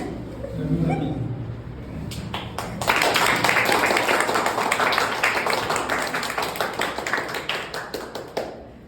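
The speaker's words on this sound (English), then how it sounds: "From this thunderous applause we hear" Toastmasters meeting audience breaks into thunderous applause, starting softly and swelling into loud, sustained dense clapping for several seconds before tapering off at the end, with faint voices early on.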